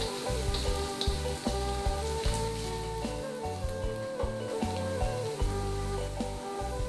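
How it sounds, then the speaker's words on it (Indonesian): Garlic sautéing in a frying pan gives off a steady sizzle that sits under prominent background music with a thumping bass line throughout. "Kita tumis juga bawang putih ko sampai tabon harum"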